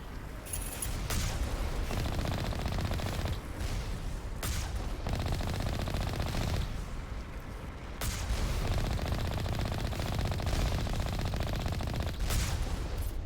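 Sustained gunfire in the video game Mass Effect Legendary Edition, rapid continuous bursts of automatic weapons mixed with heavier booming shots, loud and dense throughout with brief pauses between volleys.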